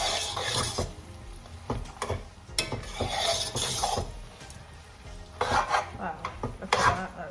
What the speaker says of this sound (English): we're just going to give that a stir